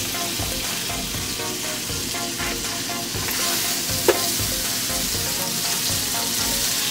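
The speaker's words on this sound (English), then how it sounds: "it's already getting hot, so we're gonna add our butter and just be generous with the butter" Butter sizzles and fries in a hot pan for a shrimp seafood boil, a steady dense crackle that runs loud and unbroken, with a sharp pop near the middle and no voices.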